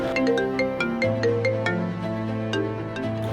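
Phone ringtone for an incoming call, a bright melodic electronic tune with a sustained bass line beneath, steady and moderately loud with no talking.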